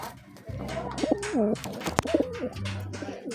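A pigeon coos a few times in soft, rounded phrases, fairly close, with a low steady background hum.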